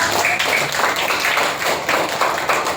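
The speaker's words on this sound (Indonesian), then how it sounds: "Silakan tepuk tangan buat kelompok 1." Students in a classroom applaud after a group presentation, a continuous patter of many hands clapping at steady loudness throughout, fairly close and without speech.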